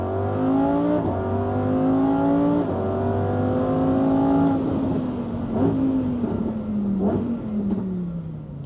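A Lamborghini Huracán Sterrato accelerates hard on a quiet public road, its engine climbing through several gears with rising whines and brief dips between shifts, loud and steady from start to finish.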